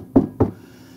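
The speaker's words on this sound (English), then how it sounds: "knock on wood." Two quick, solid knocks on wood, close and distinct, about a quarter second apart, followed by quiet.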